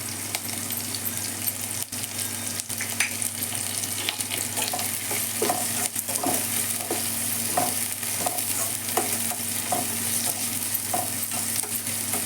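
Curry leaves fry in hot oil with a steady, dense sizzle and crackle, joined by occasional soft scraping stirs from a spoon in the pan. Nobody speaks.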